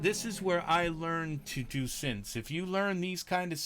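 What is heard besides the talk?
No everyday noises stand out.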